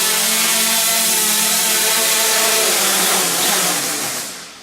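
An MJX Bugs 2 brushless GPS camera drone hovers and sets down indoors, its loud, steady propeller whine filling the space before easing off as it lands and the motors wind down.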